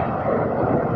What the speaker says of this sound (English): Logan Air, taking off from Glasgow.